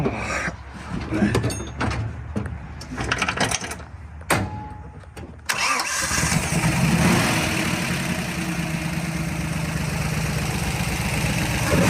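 Clanking and rustling, then an old car engine cranks and catches, settling into a steady, rumbling idle close by; a voice speaks briefly early on.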